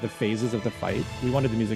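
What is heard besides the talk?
No everyday noises stand out.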